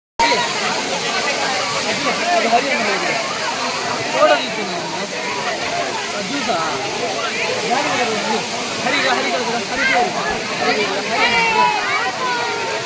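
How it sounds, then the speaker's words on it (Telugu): Talakona waterfall rushes with a constant hissing roar, while a crowd of people chatters and talks over it throughout. "ఈ వాటర్ ఫాల్స్ వీడియో అయితే ఇంతే గాయ్స్"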